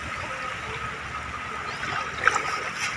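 Water at a clean beach shore, a soft continuous wash and trickle heard close, steady and fairly quiet with a small splash near the end.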